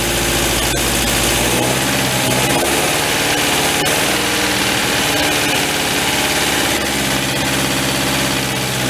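A long-stored MG TD sports car engine ticks over at idle as it warms up, a steady near rumble with a faintly lumpy rhythm, heard alone without voices.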